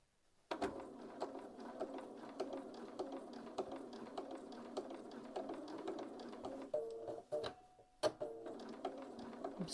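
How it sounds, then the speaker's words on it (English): Sewing machine stitching bias binding onto a fabric seam allowance, a steady rapid mechanical whir running continuously at a close, moderate level, with a brief pause and restart near the end. "so that it will sew just at the side all the way around and attach the bias binding to the seam allowance."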